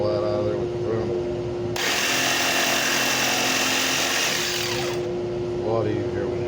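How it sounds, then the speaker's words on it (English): A jigsaw cuts through material in one loud, continuous burst of about three seconds, starting and stopping abruptly, with a steady motor hum running underneath throughout. "It's a lot easier when you just take the jigsaw."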